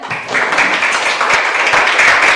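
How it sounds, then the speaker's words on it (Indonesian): Students in a classroom applaud a classmate, giving a short burst of dense, even clapping from many hands that holds steady throughout. "ada tepuk tangan buat Jackson"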